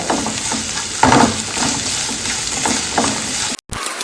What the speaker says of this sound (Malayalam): നമുക്ക് ഇതൊക്കെ ഒന്ന് വഴറ്റി കൊടുക്കാം കേട്ടോ